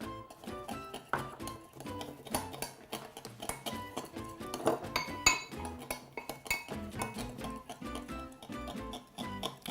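Whisk or spoon clinking rapidly against a bowl while a vinaigrette is stirred, a busy run of close metallic ticks and chinks that continues steadily throughout.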